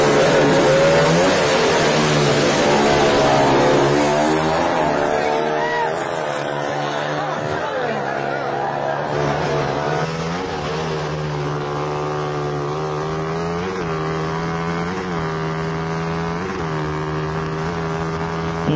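A Yamaha YZ 426cc and a 245cc Yamaha Sniper in an open-category drag race, with loud high-revving motorcycle engines screaming past up close, then a sustained droning engine whine with pitch shifts, with a voice talking over it.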